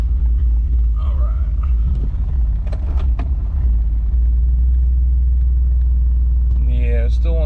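A Chevrolet Blazer engine running while driving gives a low, constant rumble throughout, with someone talking over it and a brief squeal near the end.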